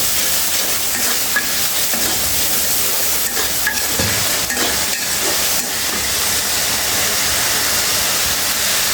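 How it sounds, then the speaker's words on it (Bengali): Food sautéed and stirred in a pan, a loud continuous sizzle and hiss with occasional scraping strokes throughout, close and unbroken. "এভাবে ভালোভাবে কষিয়ে দিতে হবে নাড়াচাড়া দিয়ে।"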